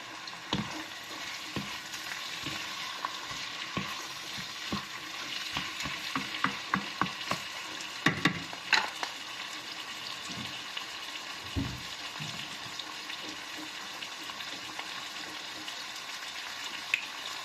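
Pork and onions fry in a pan with a steady sizzle throughout, while a utensil stirs and scrapes in repeated clattering strokes, busiest in the middle.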